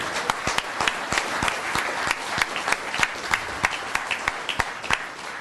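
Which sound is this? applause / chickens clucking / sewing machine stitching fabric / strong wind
applause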